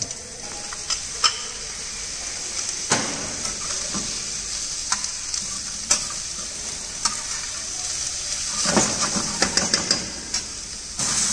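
Rice with green peas sizzles steadily in a frying pan while it is tossed and stirred, with scattered sharp scrapes and clicks against the pan over a continuous hiss.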